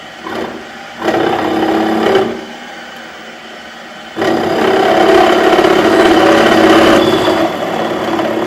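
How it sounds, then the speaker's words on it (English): A drill bores holes while a chainstay jig assembly is being made. It whines in two separate runs, a short burst and then a longer sustained one, close by, with quiet pauses and no speech. "the next step was to actually then go and do the drilling."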